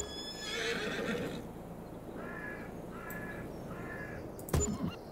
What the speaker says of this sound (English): You now have horses everywhere.